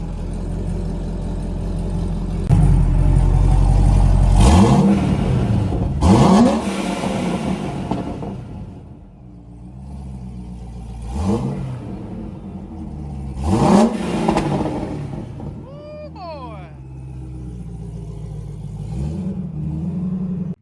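A 608-wheel-horsepower LS3 Corvette on 9 pounds of boost revs hard as it pulls out of a shop, its loud engine swelling and dropping in several sharp throttle blips over a steady rumble, close by with no talk.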